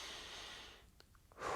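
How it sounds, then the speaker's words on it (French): A person breathes out forcefully during an abdominal breathing exercise in a physiotherapy session for low back pain, with a long airy exhale, a brief quiet pause, then another breath starting. "On va inspirer par le ventre. Gonfler le ventre, souffler."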